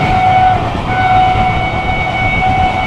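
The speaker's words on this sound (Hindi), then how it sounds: "बढ़िया रफ्तार में भाग रही है गाड़ी, दादरी बढ़िया रफ्तार में।" The Mahabodhi Express runs at high speed near Dadri, heard from on board as a loud, steady rolling rumble with continuous wheel and carriage noise and faint tonal whines.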